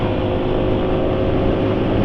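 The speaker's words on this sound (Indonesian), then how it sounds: "Suara mesin kasar itu seringnya diabaikan, padahal penting ya" A car engine runs rough with a loud, steady, low rumbling idle and a coarse, uneven texture throughout.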